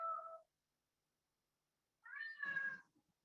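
A cat gives two clear, fairly close meows with a pause of about a second and a half between them, the second one longer and drawn out, in an otherwise quiet room.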